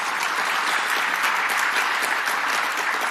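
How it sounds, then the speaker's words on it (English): Audience at a live panel discussion on independent journalism gives a loud, sustained round of applause, dense and even throughout, with no speech over it. "Can we get a round of applause, please?"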